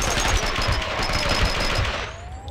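Rapid bursts of gunfire from the video game Max Payne 2, a dense, loud run of shots for about two seconds before it tails off, with a voice talking quietly underneath.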